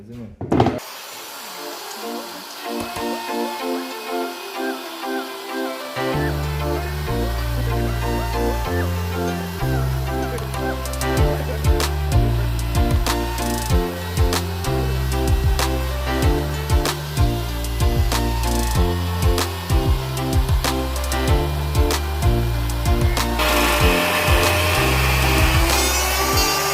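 Chiselling and digging out wood for a door in a workshop, with repeated scraping, tapping and rubbing strokes against the timber, close and fairly loud, over a steady background of rhythmic music.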